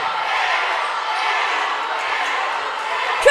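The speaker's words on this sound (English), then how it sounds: "Look at this Woods crowd." Crowd of Fairfield Woods fans cheering at a boys' high school basketball championship game, a steady loud roar filling the gym for several seconds, with a commentator speaking over it.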